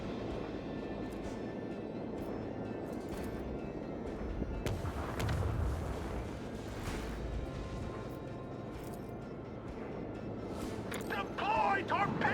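Starship weapons firing in the Warhammer 40,000: Rogue Trader video game, a rumbling roar of engines and heavy blasts with sharp impact cracks, loud and dense, while a voice talks over it.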